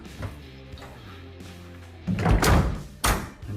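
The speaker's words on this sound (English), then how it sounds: "Latch the door," The door of a 1974 Ford Maverick, under interior restoration work, is swung and latched shut, giving a couple of loud, close metallic thunks after a quieter stretch of shop noise.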